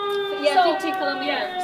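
A steady, wailing air raid warning siren tone holds over several layered pitches while people talk over it in the foreground.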